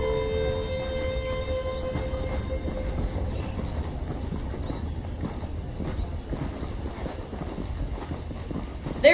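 Horse hooves clip-clop at a steady rhythm in the Red Dead Redemption video game, a continuous gait under a soft ambient game bed, with no talking.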